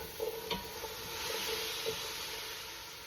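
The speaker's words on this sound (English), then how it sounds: "And then we're gonna give that a good stir for another couple minutes" Ground beef soup ingredients with sweet potato and vegetables are stirred in a pot, a soft hiss and sizzle running under a few light scrapes and clinks of the spoon, with no talk.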